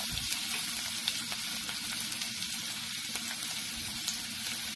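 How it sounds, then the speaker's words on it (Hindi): Chopped onion frying in oil in a pan for mixed vegetable upma, with curry leaves already in, giving a steady, close sizzle with faint crackles throughout, no talking. "अब इसमें डालूंगी ऑनियन, और ऑनियन को थोड़ा"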